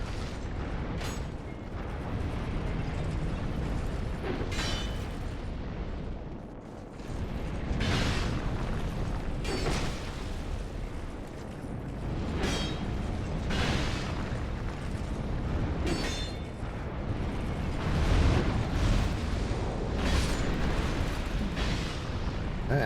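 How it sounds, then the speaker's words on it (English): Repeated explosions in Dark Souls 2 as creatures periodically burst into a fire, dense booming bursts recurring every few seconds over a constant rumbling game background, no talk. "That was another one of them exploding."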